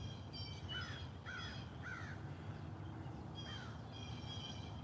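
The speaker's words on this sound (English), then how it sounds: "the crows are yelling. Probably hear them. Probably chasing a hawk of some sort." Crows cawing near a fishing spot, a few birds calling in short bursts of two or three harsh caws, moderately distant over steady outdoor background noise, with no talk.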